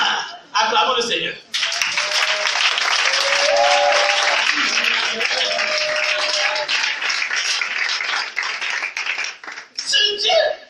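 A church congregation breaks into loud sustained applause and cheering for about eight seconds, dense clapping with scattered whistles and shouts, framed by a preacher's voice at the start and end.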